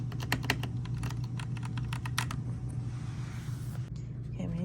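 Rapid clicking of keys on a computer keyboard at a home desk, close and steady for a few seconds, with a low constant hum beneath and no voices.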